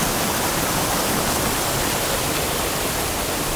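A waterfall at Gadung gives off a steady, dense roar of falling water that stays even and unbroken throughout, with no voices.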